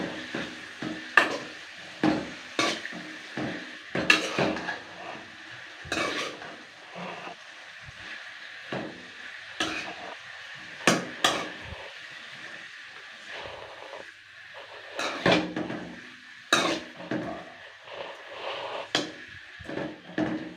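Mint chutney stirred in a pan with a spoon produces quiet, irregular scrapes and clinks, soft taps of utensil on metal repeating at an uneven pace without pause.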